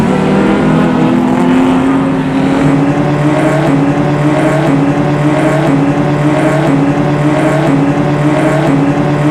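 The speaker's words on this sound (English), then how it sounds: "Looks like he's running that car in third gear all the way down the front straight." A closed-wheel race car, a Formula B invitational entry at Mission Raceway, holds third gear down the front straight, its engine drone loud and steady throughout with a slowly climbing pitch.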